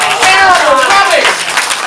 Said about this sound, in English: If you reject his apology, applaud now.